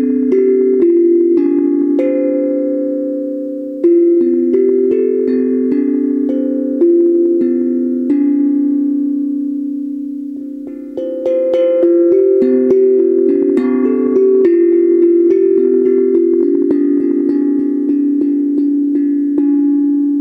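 A steel tongue drum cut from a gas cylinder, with rectangular tongues of different lengths, is played in a continuous melodic run of ringing metallic notes that overlap and sustain, close and clear.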